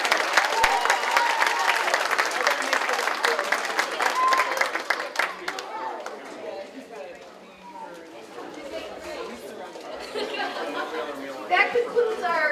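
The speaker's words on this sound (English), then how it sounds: "another big round of applause for our fifth graders" Parents and guests at a school DARE graduation applaud fifth graders, loud clapping for several seconds that fades into crowd chatter and laughter, with a few claps returning near the end.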